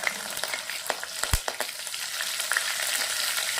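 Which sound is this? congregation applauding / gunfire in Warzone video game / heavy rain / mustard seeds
mustard seeds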